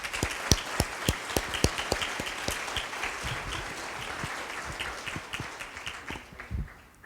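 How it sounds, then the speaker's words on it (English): An audience at a Community Choice Energy Symposium bursts into applause, with crisp individual claps at first that blend into steady clapping before tapering off. "Let's give them a round of applause."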